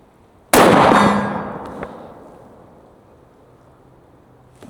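A single sharp rifle shot from a Stevens 334 in 6.5 Creedmoor cracks loudly outdoors and rings away in a long fading tail, with faint wind and a small click afterward.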